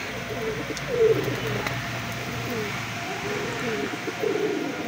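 Wet pigeons coo repeatedly at a pigeon farm after a rainstorm, soft throaty calls recurring through a steady hum of background noise.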